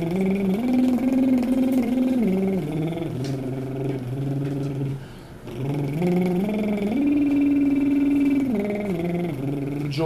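A tenor sings a bubbling octave-jump vocal exercise, a steady sustained voice that leaps up and back down in clear stepped pitch shifts, loud and close with one brief pause midway.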